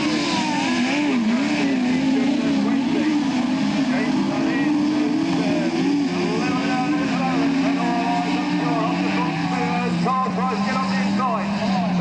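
Race cars competing on a loose-surface track, brand new cars with engines droning and revving continuously, loud and close with overlapping motor whine.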